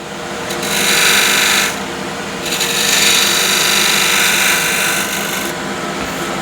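A skew chisel's side bevel scrapes spinning wood on a lathe in two loud, close bursts of hissing and rasping. Between and around them the lathe hums steadily. No voices are heard.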